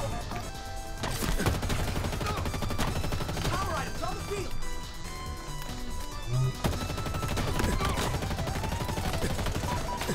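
Dense Halo Infinite gunfire, a continuous loud clatter of automatic weapons and scattered crashes throughout, with speech mixed into the din.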